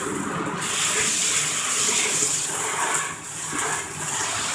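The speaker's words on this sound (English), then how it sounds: "Make sure you rinse everywhere that you put works on." Running water rinses bathroom surfaces, a steady broad splashing and spraying like a tap or shower hose that stays close and loud throughout, dipping slightly near the end.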